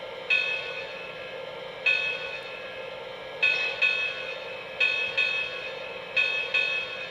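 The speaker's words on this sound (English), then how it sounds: "And here is the bell, single hit on the Legacy remote." A locomotive bell on a Lionel Legacy Canadian Pacific 4-6-0 Ten Wheeler model train rings in repeated bright, clear strikes spaced irregularly over a steady low engine hum, close and fairly loud.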